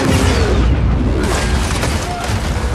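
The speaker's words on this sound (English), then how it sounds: "Just got reports of two explosions near the front." Movie explosions from a time bomb aboard a remotely steered vehicle, heard as a dense, loud, continuous roar of blasts and rumbling debris.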